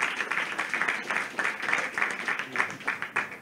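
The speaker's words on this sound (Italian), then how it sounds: "un grandissimo applauso" Applause from an audience at a political candidates' presentation in Rivarolo, heard as a steady, moderately faint wash of clapping throughout.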